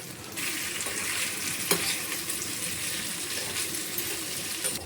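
Potatoes with turmeric, onion and salt being sautéed in a pan, a steady loud sizzle with scraping stirs and a brief clink, no talk.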